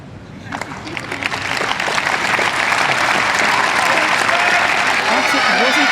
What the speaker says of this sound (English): Maguire's family led the cheering as the gold medal went to Great Britain